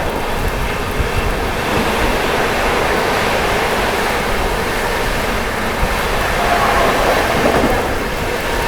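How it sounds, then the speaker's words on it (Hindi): Heavy stormy rain pours down during a train journey on the Patna Amrit Bharat Express, a dense continuous roar of rain and wind mixed with the rumble of the moving train, loud and steady throughout. "इतनी तेज बारिश हो रही है भाई, तूफानी बारिश"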